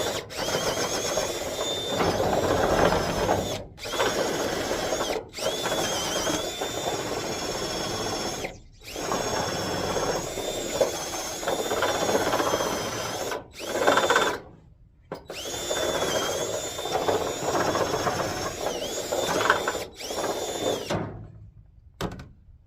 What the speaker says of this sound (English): I think my battery's almost dead on my drill too